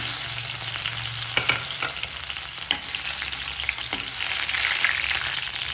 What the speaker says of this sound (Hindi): लहसुन को मुझे एकदम अच्छे से जलाना है